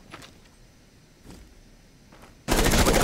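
Video game gunfire during a tournament match: a few faint distant shots, then a sudden loud, dense burst of rapid fire at the end.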